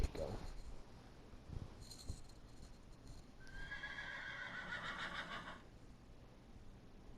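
A horse in Minecraft whinnies loudly in a long, wavering neigh, preceded by soft clip-clop hoofbeats and shuffling game sounds, with no one talking.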